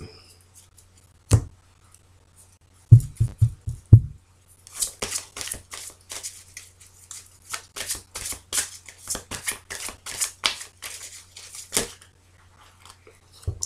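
Tarot deck being cut and shuffled by hand, a few sharp taps followed by a long run of crisp, riffling card flicks close by, with no talking.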